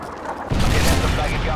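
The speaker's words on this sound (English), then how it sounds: "Predator missile inbound." Heavy explosion from a Predator missile strike in Call of Duty: Modern Warfare 3, a sudden loud boom that swells into a dense, sustained rumbling blast.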